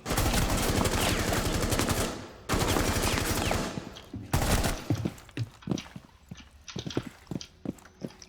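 Rapid bursts of automatic gunfire from shooting bots in Rainbow Six Siege, two long dense volleys followed by scattered single shots and clattering impacts, loud and close.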